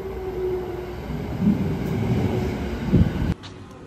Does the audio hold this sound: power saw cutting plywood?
no